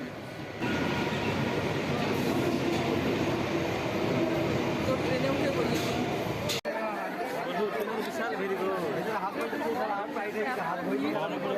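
A train pulling into a station, with broad rumbling rail noise and rushing air filling the first six seconds, then cutting to a busy platform where crowd chatter and voices mingle with lighter station noise.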